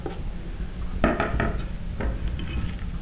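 A spoon scrapes and clatters against a pan while mashed eggplant is stirred into masala for baingan bharta, with a few close, distinct knocks amid soft mixing noise and no voice.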